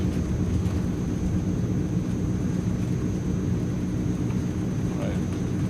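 A Transall C160 twin-turboprop cargo plane at full power on its take-off roll in Microsoft Flight Simulator, a dense, steady low engine roar with a faint high whine, close and continuous, with a voice talking over it.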